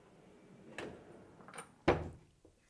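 A drawer in a workshop lathe cabinet slides open with a soft rumble and a sharp knock near the end, close by in a quiet room.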